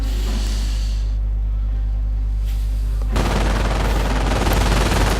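Machine gun fire in the strategy game Company of Heroes: after a low rumbling battlefield ambience, a loud dense burst of rapid automatic fire erupts and continues without pause to the end.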